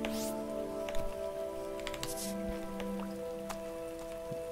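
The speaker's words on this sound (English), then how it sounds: "This is all watered now because it's raining" Rain falling in the video game Starbound, a soft steady patter with scattered drips over faint tonal game music, quiet and continuous.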